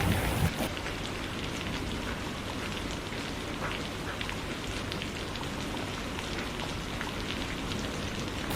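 Steady rain falling, a dense even hiss of drops on surfaces lasting throughout, fairly soft and with no voices.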